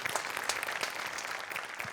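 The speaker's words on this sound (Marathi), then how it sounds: "तिघांसाठी टाळ्या वाजवूया." Audience applause for three stage performers on a Marathi comedy show, a steady wash of many hands clapping at moderate volume for a couple of seconds.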